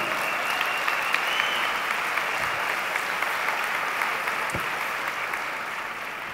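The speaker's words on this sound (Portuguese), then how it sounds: "Pode aplaudir." A large church audience applauds loudly and continuously, a dense, sustained roar of clapping that holds steady for several seconds and eases only slightly toward the end.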